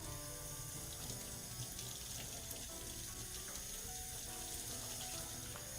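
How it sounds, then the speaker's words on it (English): Cold tap water runs steadily into a sink while dyed fabric is rinsed, a continuous close splashing rush with no talk. "When you rinse it out, you want to rinse it with cold water."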